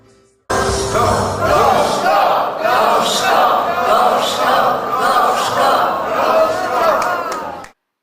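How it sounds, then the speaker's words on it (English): A Polish wedding crowd loudly chanting and shouting "gorzko" while the couple kisses, a dense, sustained roar of many voices in rhythmic waves that stops abruptly. "the crowd is screaming gorzko"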